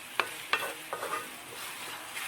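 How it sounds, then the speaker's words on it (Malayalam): Onions and tomatoes sautéing in a pan for chicken curry give a soft, steady sizzle close by, with a few sharp clicks of stirring. "ഇപ്പോൾ തക്കാളി സവോളയും കൂടിയിട്ട് നന്നായി വഴഞ്ഞിട്ടുണ്ട്."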